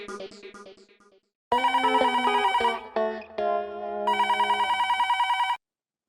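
A telephone rings in a Hindi family sitcom home scene, with electronic tone bursts pulsing in a steady repeating pattern, loud and clear, broken by a short pause between ring phrases.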